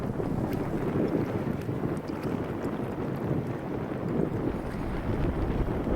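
Strong wind buffeting the microphone in a continuous low rumble on Lac du Salagou, with faint water and rigging noises beneath and no voices.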